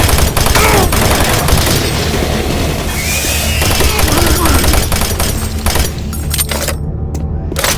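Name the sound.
automated turret guns firing in Doom 3 video game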